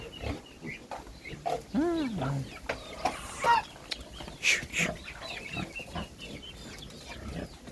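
Chickens cluck and call in short, scattered bursts on a farm where crossbred wild boar piglets are kept, with someone talking over the birds and other animal noises.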